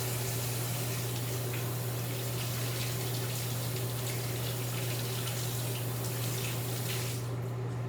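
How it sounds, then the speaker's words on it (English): Cold water runs steadily from a kitchen tap for rinsing cauliflower, a continuous broadband hiss with a low steady hum beneath, ending abruptly near the close. "I'm going to leave that water on. I'm going to turn it on to cold"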